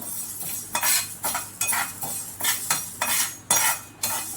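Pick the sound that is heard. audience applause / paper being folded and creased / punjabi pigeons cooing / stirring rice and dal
stirring rice and dal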